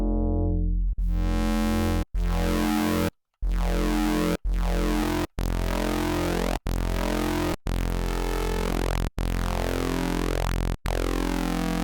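A synth bass note repeats in separate sustained hits, its tone shifting from one hit to the next as it morphs between simple waveforms such as sine waves, loud and alone.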